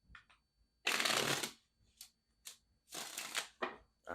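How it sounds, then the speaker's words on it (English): Tarot cards are shuffled in several quick riffling bursts separated by short pauses, close and crisp, with no talking. "let's get one more shuffle for my Virgos"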